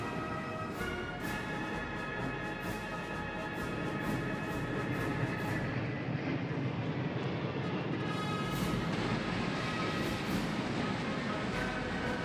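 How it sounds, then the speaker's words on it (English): A three-plane echelon of Yunyou-20A airborne refueling tankers flies over Tiananmen Square during a military parade, giving a steady, loud jet roar with rising and falling whine that fills the whole stretch without pause. "Now flying over Tiananmen Square is the echelon of 3 Yunyou"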